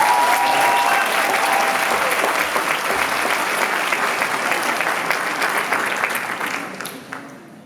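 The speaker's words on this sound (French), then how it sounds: "Je vous invite bien tout simplement à accueillir et à applaudir comme il se doit The Cherries." A large audience at a live stage show greets The Cherries with loud, sustained applause that holds strong for several seconds and then thins out and fades toward the end.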